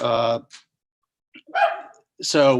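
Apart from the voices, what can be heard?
dog barking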